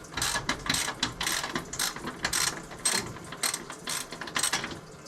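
A ratchet loosening a 10 mm bolt on a Geo Tracker during a radiator swap, giving a rapid, steady clicking of the pawl in repeated strokes, close and clear with no talking.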